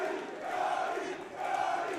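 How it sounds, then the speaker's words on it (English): An MMA arena crowd in New York chants a fighter's name at a Triton Fights event, a loud rhythmic mass of voices swelling in two waves. "The crowd still chanting the Gotti name that reigns supreme here in New York."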